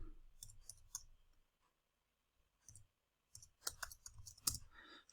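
Computer keys are tapped in short, irregular bursts of close clicks, with a quiet pause in the middle and denser, louder typing toward the end.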